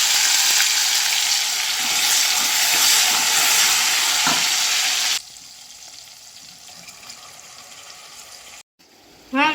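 Spices for a traditional Gujarati oro are tempered in hot oil in a kadhai. A loud, close, hissing sizzle runs for about five seconds, then drops to a much quieter background with faint clatter near the end.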